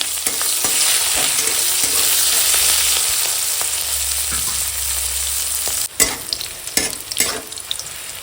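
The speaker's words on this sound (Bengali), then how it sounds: "এখন আগে তেলের কড়ায় ওই মাছ ভাজা করে পেঁয়াজ আর কাঁচা লঙ্কা দিয়ে এখন আগে ভেজে নেবো" Chopped onion and green chili fry in hot oil in a wok, a loud continuous sizzle with stirring, then a sudden break followed by sharp clattering scrapes and crackles near the end.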